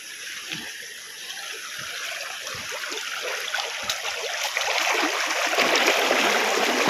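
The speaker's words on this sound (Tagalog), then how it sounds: "Lakas ng tubig, oh." Strong floodwater rushes after a typhoon in the Philippines, a continuous broad gushing roar that swells slightly louder toward the end, with no talking.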